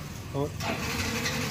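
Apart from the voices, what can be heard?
Yamaha FZ motorcycle engine starting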